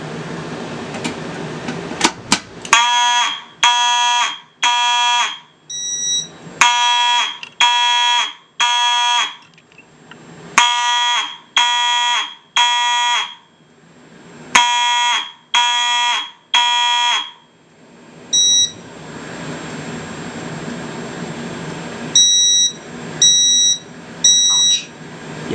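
A fire alarm system set off from a pull station sounds a loud repeating horn pattern in bursts of three with short pauses between groups. Near the end a buzzier tone pulses over a mechanical hum.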